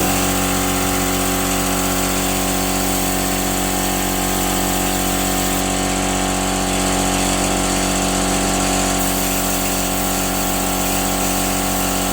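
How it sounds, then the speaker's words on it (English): A power sander whirs loudly and steadily for the whole stretch, an unbroken high-pitched motor drone with no talking. "See how we go when we start sanding it."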